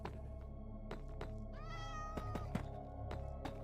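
A video game cat meows a few times, faint and close, against a steady hum, with soft thunks around the calls.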